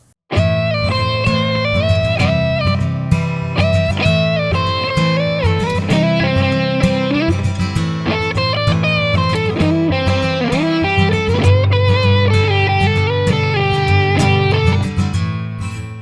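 An electric guitar solo from a song, with bending, flowing melodic lines over a full band backing, loud and continuous throughout.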